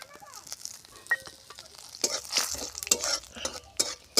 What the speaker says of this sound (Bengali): ফোড়নের জন্য দিয়ে দিয়েছি দুটো তেজপাতা, দুটো এলাচ, লবঙ্গ আর দারচিনি আর জিরে ফোড়নের জন্য দিয়ে দিলাম।